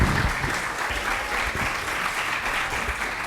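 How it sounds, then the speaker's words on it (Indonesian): An audience at a language and literature seminar claps steadily, a dense, even patter of many hands that continues throughout without any talk over it. "Kita beri tepuk tangan."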